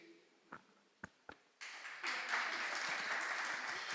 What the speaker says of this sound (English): We'll just repeat the clapping, right?